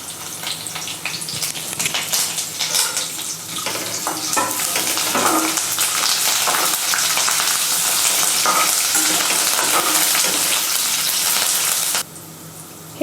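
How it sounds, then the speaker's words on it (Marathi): Green chilies and curry leaves sizzle steadily in hot oil for a makhana chiwada, a loud continuous crackle and hiss with occasional stirring, no voices. "आणि हिरवी मिरची ही छान अशी तळून घेणार आहोत।"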